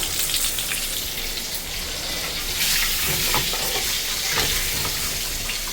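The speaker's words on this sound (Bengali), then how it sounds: "এদিকে হচ্ছে ভাজা হচ্ছে এই যে বিরিয়ানির সবজিগুলো" Biryani vegetables frying in a pan give off a steady, dense sizzle and crackle, close and fairly loud, with scattered pops and stirring scrapes throughout and no voices.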